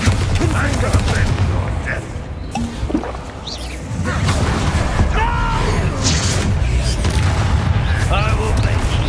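Spell blasts and magical booms from the Hogwarts Legacy video game, loud and continuous, with repeated crashes and whooshing bursts over a dense rumbling battle bed, with voices calling out amid the fighting.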